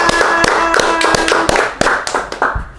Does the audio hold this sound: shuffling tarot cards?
no